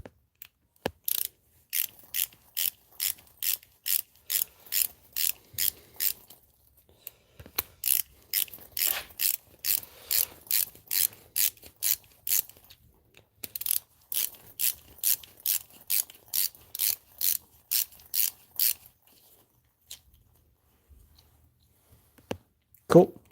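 A ratcheting screwdriver drives a screw into copper knife scales, making sharp rhythmic clicking in repeated runs of rapid ratchet strokes with short pauses between them, close and clear.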